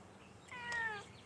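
A small cat meows once, a short rising and falling meow heard fairly faint over a low background hiss, with no speech.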